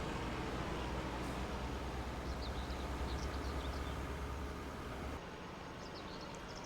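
A train rolls along in a farming video game, a low continuous rumble with faint higher clatter that stays steady, then drops noticeably quieter near the end.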